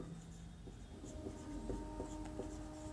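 A teacher writes a physics question on a board for a Class 12 lesson on Kirchhoff's law, producing soft, steady scratching and tapping strokes, close and faint, with no talk over it.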